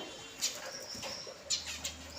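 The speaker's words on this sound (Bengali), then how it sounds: "পাখিগুলো বেশ ছটফটে" Small restless birds flutter nearby, a few soft wing flaps and faint rustles heard quietly against a low background hum.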